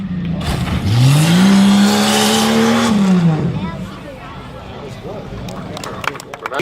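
A Jeep Cherokee roars at a tough truck event, its engine loud and close as it revs up, holds a high strained note for a couple of seconds, then drops away, with an announcer talking over it.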